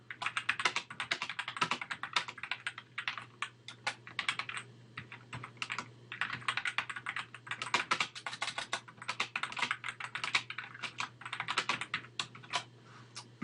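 Steady clatter of computer keyboard typing while text is entered into a website editor: quick bursts of close key clicks with short pauses, a low constant hum underneath, no talking.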